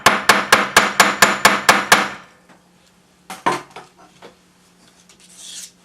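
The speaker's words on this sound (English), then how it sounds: "Forge the end." A hammer forging the end of a metal fibula pin: eight quick, evenly spaced ringing metallic strikes, close and loud, followed by a few softer scattered taps and handling noise.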